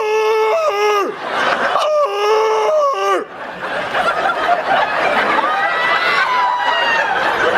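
A comedian vocally imitates a huge crowd screaming into plastic cups at an event, with rising and falling shrieks giving way to a sustained, chaotic roar of overlapping cries and laughter, loud and unbroken.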